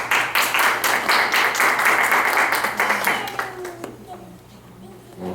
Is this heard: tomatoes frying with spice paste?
no